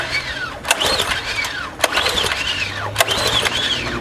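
A small engine left sitting outside in the rain cranks repeatedly, with three bursts of whirring, rising-and-falling starter effort separated by short pauses, close and fairly loud, without catching.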